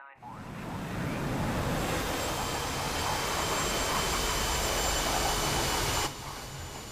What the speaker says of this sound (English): I've got a jet screaming on me.